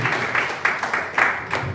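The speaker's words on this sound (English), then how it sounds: "Big round of applause, please, for this great topic of here." Audience clapping at a student speaker event, a short burst of applause with steady overlapping claps and a few louder peaks, moderately close and without speech over it.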